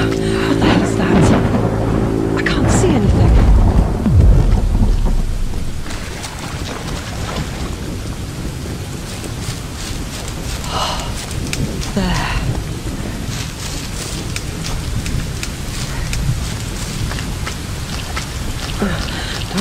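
Rain and thunderstorm in a Tomb Raider game level, a deep rolling thunder rumble at first fading into a steady wash of rain with scattered splashes and low background drone.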